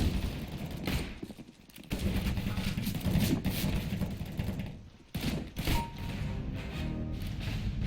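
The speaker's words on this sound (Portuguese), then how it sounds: "Três tiros na tela do cara, na testa dele." Gunfire in a multiplayer shooter game comes in loud rapid bursts and clattering volleys, separated by brief pauses, with mechanical clicking between shots and no talking.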